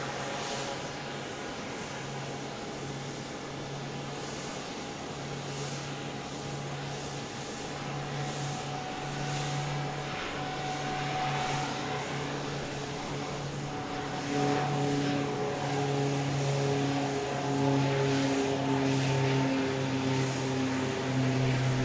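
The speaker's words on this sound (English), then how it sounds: "Flight 62, a MAX 8 coming in from Houston, Texas" A Boeing 737 MAX 8 jet airliner landing at Dallas Love Field at night, arriving as Flight 62 from Houston Hobby, its engine roar building steadily with whining tones and growing louder toward the end, heard from a distance without talk.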